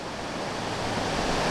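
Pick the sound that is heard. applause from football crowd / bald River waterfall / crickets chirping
bald River waterfall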